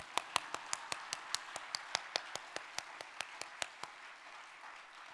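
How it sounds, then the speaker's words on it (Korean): Rhythmic hand clapping from a church congregation during a Sunday evening worship service, about twenty even, sharp claps in steady time that fade out near the end, with no talking over them. "자, 박수 한번 쳐요."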